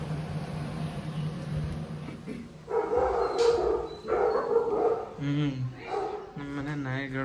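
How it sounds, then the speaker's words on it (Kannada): A household dog barks in a string of sharp, close barks and yips, mixed with whimpers, while people talk nearby. "ನಮ್ಮನೆ ನಾಯಿಗಳು ಬೊಗಳ್ತಾ ಇತ್ತು."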